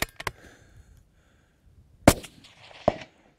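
Long-range rifle shots at a shooting range, two sharp cracks about a second apart with short echoing tails, loud and close, plus fainter earlier pops and quiet gaps between.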